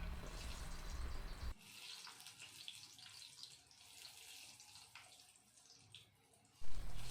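Raw jackfruit pieces coated in dry maida flour fry in hot oil, sizzling and crackling close by. The sound is loudest at the start, settles to a softer bubbling hiss, then swells again near the end, with no talk.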